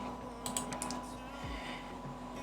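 A few quick computer keyboard key presses for a Ctrl+Shift+C shortcut, soft clustered clicks close by over a faint steady background hum.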